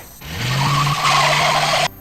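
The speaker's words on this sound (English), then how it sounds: "a sleek black Pontiac Trans Am roars into frame" A sleek black Pontiac Trans Am roars in with loud tires skidding and squealing, a sharp screech rising from silence, holding for under two seconds and cutting off abruptly.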